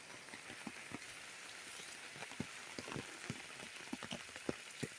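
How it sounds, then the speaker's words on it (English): Light rain falling in a green village garden, a soft continuous hiss dotted with many small drops tapping nearby surfaces, fairly quiet and with no voices. "It's raining."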